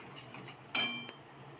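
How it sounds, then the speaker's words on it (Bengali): A spoon stirring sugar in a kadai gives faint scraping, then one sharp metallic clink against the pan that rings briefly before a lighter tap. "কড়াতে এটা ভালো করে নেড়ে চেড়ে নিতে থাকবো"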